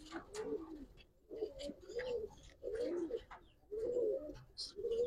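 A pair of khaki pigeons coos in repeated rolling phrases, close and fairly loud, with short pauses between the bursts of cooing.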